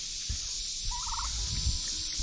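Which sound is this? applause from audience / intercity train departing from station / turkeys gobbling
turkeys gobbling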